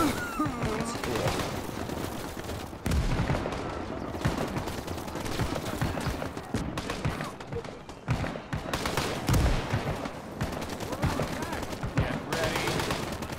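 Rapid rifle and automatic gunfire in a Cold War Marine Corps beach landing battle in the game Gates of Hell, with dense overlapping bursts and distant explosions throughout and a voice speaking at times.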